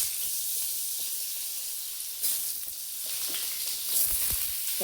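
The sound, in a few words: pointed gourd (potol) frying in hot mustard oil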